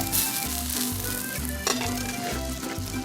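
Gompi seaweed and vegetable pancake frying in a pan, a soft continuous sizzle under steady background music, close but fairly quiet and with no voices.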